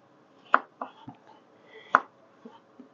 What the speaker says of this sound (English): Slice it that way.